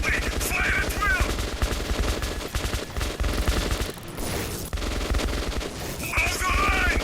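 Sustained rapid gunfire fills a firefight in Metro 2033 Redux, dense machine-gun bursts rattling almost continuously with brief pauses, loud and close, mixed with game sounds and shouted voices.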